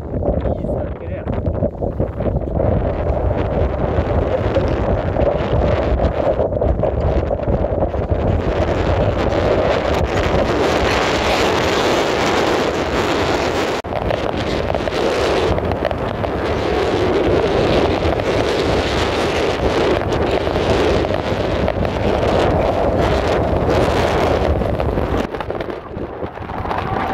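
Roaring storm wind on a snowy mountain plateau blasts constantly and loudly across the whole stretch, buffeting the microphone in heavy gusts, with a person's voice partly buried beneath it.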